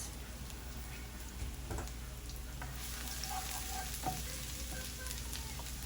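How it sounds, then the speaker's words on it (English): Garlic frying in hot oil for plain egg fried rice, a steady dense sizzle that grows brighter partway through, with a few faint clinks and no talking. "add the garlic first. This way my oil is going to be infused with garlic"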